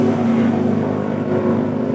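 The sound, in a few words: motorcycle passing on nearby road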